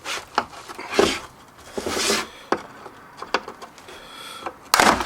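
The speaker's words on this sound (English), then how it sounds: "We're going to start by trying to pry this off with a flathead screwdriver." A flathead screwdriver pries at the plastic housing of a Starlink dish, producing scraping, rubbing and creaking with sharp clicks and snaps at irregular intervals, close and moderately loud.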